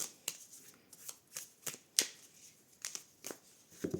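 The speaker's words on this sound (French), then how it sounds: "on va sortir ici une première carte et une deuxième avec le Lenormand" Tarot and Lenormand oracle cards being drawn and laid down: a series of quiet, crisp card flicks and slaps at an uneven pace, close and alone with no talk.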